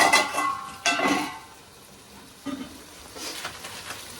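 Tomato and onion fry in a pan for a mutton dish, sizzling up close with loud scraping bursts of stirring at the start, then settling into a softer, steady hiss.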